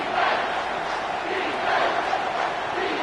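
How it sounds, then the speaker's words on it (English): Stadium crowd at a Clemson versus Michigan college football game roaring on third down, a dense sustained wall of cheering and shouting that swells and surges. "Decibels rising as the crowd gets behind this defense on 3rd down."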